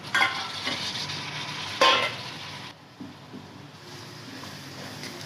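Masala, onions and chopped tomatoes frying in a pan for palak dal, a continuous soft sizzle with occasional scraping stirs and a sharper burst early on, settling to a quieter, steady hiss.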